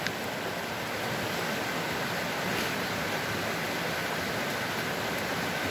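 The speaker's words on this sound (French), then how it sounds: "Une belle rivière qui coule comme ça." A river flows with a continuous broad rushing wash of water, steady and moderately loud, with no voices over it.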